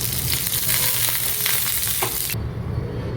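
Coconut oil heats and sizzles on a tawa over a medium flame, a dense, close crackling hiss with small pops that cuts off sharply near the end.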